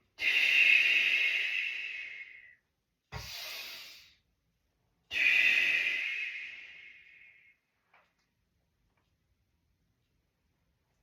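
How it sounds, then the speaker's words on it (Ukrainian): Deliberate breathing in and out during a nonstop exercise routine, long airy hissing breaths with a short one between them, close and clear, followed by near silence. "Вдих і видих."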